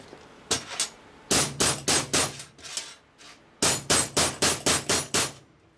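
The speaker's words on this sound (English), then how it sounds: "Oh, I got a hammer." Sharp metallic hammer blows in quick bursts, a couple of isolated strikes then two rapid runs of five or six ringing hits, close up, straightening a 1947-54 OEM tombstone tail light bezel.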